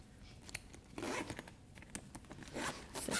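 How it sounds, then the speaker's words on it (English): The zipper of a Gravel 11-liter travel day bag is pulled closed in several quick, close raspy strokes with short pauses between them, heard alone. "Zip him back up"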